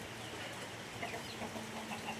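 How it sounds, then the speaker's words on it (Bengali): Desi crested chickens on a small farm make soft, scattered clucks, faint and somewhat distant over a low background hum. "মুরগিগুলো,"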